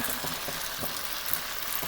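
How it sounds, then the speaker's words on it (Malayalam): Hot oil sizzles and crackles steadily as sukhiyan, sweet fried dumplings, deep-fry up close, a constant bubbling hiss with small pops throughout. "അപ്പോൾ നമ്മുടെ സുഖിയൻ ഇങ്ങനെ നമുക്കെല്ലാം വറുത്തെടുക്കാം"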